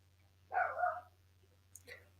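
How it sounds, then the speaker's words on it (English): A dog gives one short, muffled bark indoors, followed by a faint whimper, both fairly quiet against a low background hum. "now my dog's going crazy"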